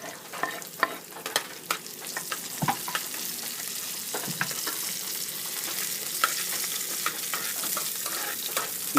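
Garlic and onion frying in a pan for wild bird adobo, a steady close sizzle broken by sharp crackles and occasional scrapes of stirring, with no voices.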